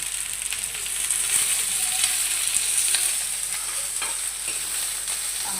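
Onion sizzles steadily while sautéed in a pan, a dense continuous hiss with occasional spoon scrapes and stirring, close and alone without talk.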